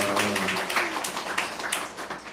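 A church congregation claps in welcome during a Thanksgiving neighbour-invitation service, a steady patter of many hands across the room, louder at first with a voice briefly audible early on.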